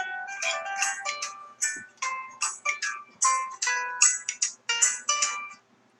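A phone ringtone plays for an incoming call, a bright melodic chime pattern repeating in short pulses, clear and alone against silence before it stops near the end.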